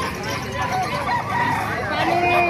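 Roosters at a gamefowl market stall in Bocaue crow and cluck close by, mixed with steady crowd babble and voices talking throughout.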